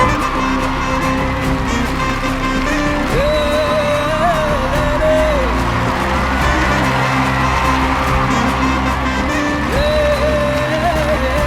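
An audience at a Tamil television award event cheers and claps to welcome a guest onto the stage, the applause and whoops blending with loud, sustained music playing over the crowd.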